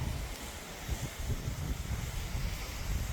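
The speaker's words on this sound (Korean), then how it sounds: "청청폭포 쪽에서 흘러내려오는 물이 이제 이리로 흘러내려오고 있습니다." Stream water flowing down from Cheongcheong waterfall in a mountain valley at Jaeyaksan, a steady broadband rushing wash with low rumble and some wind buffeting, continuous and fairly close with no talk.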